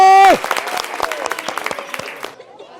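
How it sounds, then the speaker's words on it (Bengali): At a comic outdoor football game with prizes for players, a short held tone gives way to scattered, lively clapping from a small crowd of spectators. The clapping thins out and fades within a couple of seconds. "করতালি।"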